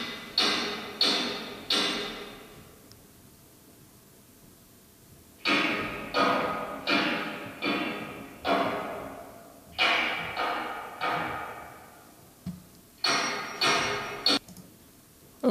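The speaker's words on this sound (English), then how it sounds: "Then we can listen to this hammer source." Simulated hammer blows from an industrial source in a room-acoustics auralisation, struck in quick clusters of three to five sharp impacts with reverberant decay, separated by quieter gaps.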